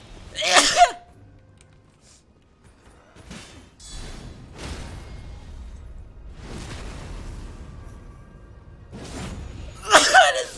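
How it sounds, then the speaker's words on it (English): A sharp, loud sneeze bursts right against the microphone at the start, with another close sneeze or cough near the end and quieter breathy rustles between them. "I sneezed directly into the microphone."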